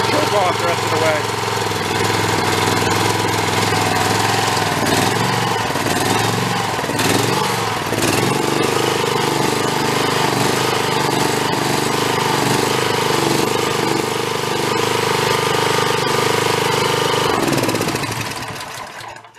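A Chinese-made skid steer's small engine runs steadily on choke, a loud, continuous close-up rumble with a rough knocking texture that holds for most of the stretch and then cuts out near the end.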